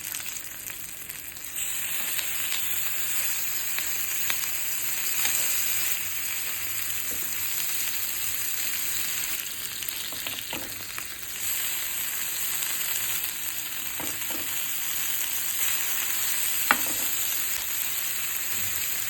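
Fish pieces frying in oil with curry leaves, crispy fry style, giving a steady close hissing sizzle throughout with occasional soft pops and a brief turn of the pieces.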